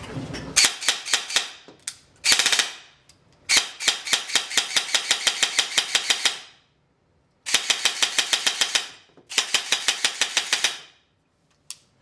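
Bursts of rapid full-auto fire from an ARP 9 airsoft gun, loud and close, in several strings of a second or two separated by short pauses, with a couple of single shots.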